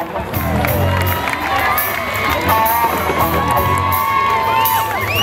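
A crowd at an equestrian show cheers and whoops for a young French bareback rider, loud and continuous, with an announcer's voice running over the noise.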